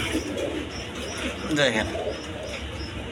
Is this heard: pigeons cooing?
yes